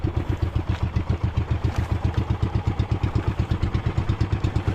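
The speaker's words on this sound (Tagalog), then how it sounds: "Tambot siya ng barko mga amigo" Ship's engine exhaust at sea on the Pacific, a steady rapid thudding chug with a regular pulsing beat, loud and close, running continuously with no voices.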